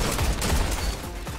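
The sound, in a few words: gunfire in the video game Destiny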